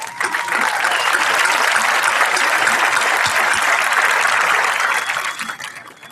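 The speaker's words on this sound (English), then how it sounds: "That's where you guys deserve a round of applause." A graduation ceremony audience gives loud, sustained applause that holds steady for several seconds and then tapers off at the end.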